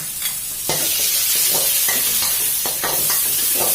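Garlic, black pepper and fish sauce sizzle loudly in a pan of shallow oil over low heat, with a steady close frying hiss broken by repeated scraping stirs of a utensil.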